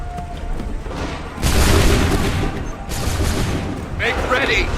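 A loud, ragged volley of musket fire from a line of soldiers in Assassin's Creed III bursts out at once and trails off into scattered shots and rumbling, with a shouted command and battlefield noise around it.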